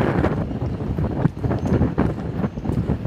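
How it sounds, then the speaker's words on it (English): Wind gusting across a marina dock before a storm, buffeting the microphone in loud irregular rumbling bursts that rise and fall without pause and drown out everything else. "Wow, it's got a little windy."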